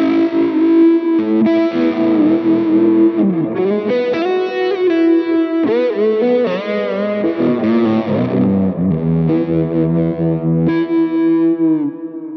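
Electric guitar runs through a Univibe effect from a Helix preset, playing sustained melodic lines and bends with a swirling, pulsing modulation, loud and alone.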